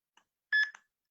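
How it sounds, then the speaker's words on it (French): A short electronic beep from a timing system detecting a chip, with a faint blip before it, fairly quiet, in an otherwise silent moment. "quand ça détecte la puce, ça bip"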